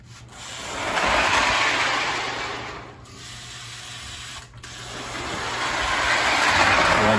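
A toy train locomotive, a Marx Canadian Pacific model, runs along its track with a continuous smooth rumble and whir that swells and fades as it moves past.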